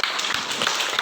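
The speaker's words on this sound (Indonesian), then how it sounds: "Ya, tepuk tangan." Classroom applause after a group presentation, a steady wash of many hands clapping close by, filling the whole short stretch.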